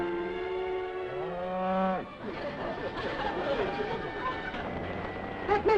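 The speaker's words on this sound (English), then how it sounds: "I still hear the cattle and the goats." Cattle moo from a television western in a living room, a drawn-out low bellow followed by sliding lowing calls, with chatter and speech mixed in over the background.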